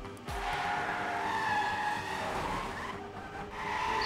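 A race car in the Trackmania video game skids and crashes, a loud continuous engine roar with tire screech running through the whole stretch.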